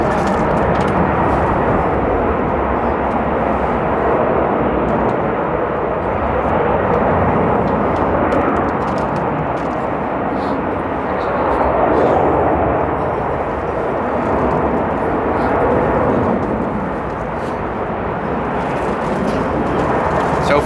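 Aircraft at Amsterdam airport: a loud, continuous jet roar that swells and eases slightly over about twenty seconds, heard from nearby with no talking.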